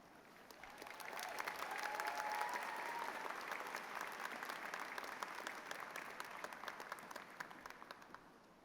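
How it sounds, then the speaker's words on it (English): Dense crowd applause fills a graduation ceremony hall as a keynote speaker is welcomed, swelling within the first second and holding a steady, many-handed patter for several seconds. "I want to keep the applause going"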